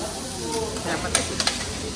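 Chahan fried rice sizzling on a teppanyaki grill, a steady close hiss with a few sharp spatula clinks near the end, background chatter faint.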